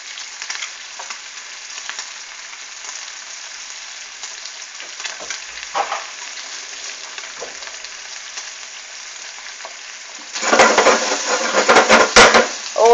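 Bacon sizzles steadily in a pan while crispy bacon and scrambled eggs are cooked, with a constant hiss and occasional crackles. Louder bursts of sizzling and scraping come near the end, likely as the bacon is stirred or turned.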